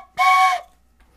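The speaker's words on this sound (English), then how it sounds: "I love that whistle." A single short, bright whistle blast sounds clearly, lasting under half a second, then silence.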